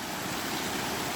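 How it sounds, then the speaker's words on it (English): Bridal Veil Falls in Yosemite roars as a steady, dense rush of falling water, loud and unbroken from start to finish, with no voices. "So we're moving closer towards Bridal Veil Falls."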